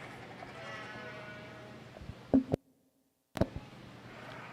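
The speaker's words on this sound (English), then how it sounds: "White Dorper yearling ewes." White Dorper yearling ewes in a youth show ring give a couple of sharp bleats against a steady crowded-barn murmur, with a brief silent gap before the din resumes.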